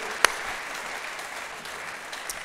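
A church congregation applauds in a dense, even wash of clapping at moderate level, with one sharp knock near the start.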